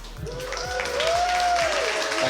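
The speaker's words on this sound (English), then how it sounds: "can we get a huge round of applause" Crowd applause at a Halo esports championship event, a sustained wash of clapping that swells and holds for a couple of seconds, with a tonal sweep above it.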